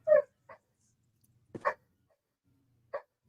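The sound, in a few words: dogs barking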